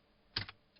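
Keys on a computer keyboard are pressed for a Control V paste while editing in GIMP: two quick, quiet clicks close together, then a fainter third click, with no talking.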